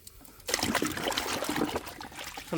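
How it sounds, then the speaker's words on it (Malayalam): Diluted oil cake fertilizer liquid is poured at the base of a plant through a hole, a loud, close splashing trickle that starts abruptly after a quiet moment and runs steadily to the end. "ഇങ്ങനെ കടക്കൽ ഒഴിച്ചു കൊടുക്കും ഹോള് വഴി."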